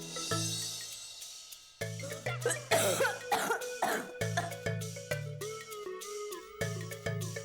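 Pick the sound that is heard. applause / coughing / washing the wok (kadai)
coughing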